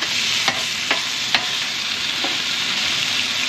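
Mushrooms and onions sizzling alongside a ribeye steak in a pan at an outdoor glamping event, a steady close frying hiss punctuated by a few faint clicks and scrapes.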